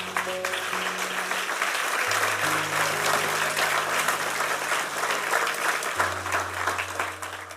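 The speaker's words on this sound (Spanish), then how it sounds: "Dale un aplauso al Señor." A church congregation claps steadily during a worship service, a thick continuous roar of many hands at moderate loudness with sustained keyboard or organ tones underneath and only faint voices.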